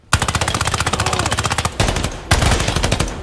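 Sustained automatic gunfire in the tactical shooter Ground Branch, a rapid unbroken burst of loud close shots, a brief pause, then another burst and a final short string before the weapon runs dry, with no voices over it.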